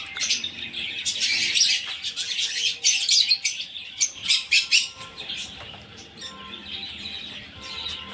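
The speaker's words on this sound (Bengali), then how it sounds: "তো দেখো এই পাখিগুলো, এই পাশের পাখিগুলো দেখা।" Many small birds chirp and tweet in a park, with dense, overlapping calls that swell and fade over several seconds. Occasional squawks stand out, and there is no speech.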